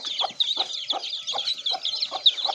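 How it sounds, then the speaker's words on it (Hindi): A hen clucks steadily in a quick, regular series of short calls, close by and clear, with a constant high chirping chorus of birds behind it. "मुर्गी मारेगी"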